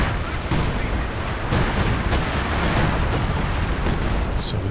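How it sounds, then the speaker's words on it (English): Assault artillery shells bursting in Company of Heroes 2 on the La Gleize map, a dense barrage of heavy booms and crackling impacts, some sharp and near, over a continuous rumbling battle din. "There's quite a lot of scatter on those assault artillery shells."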